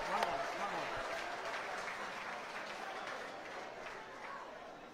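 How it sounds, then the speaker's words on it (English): Crowd applause and cheering at a bocce finals match, a steady wash of clapping at moderate distance with voices and chatter mixed through it for the whole stretch, slowly easing off toward the end. "A round of applause for everybody."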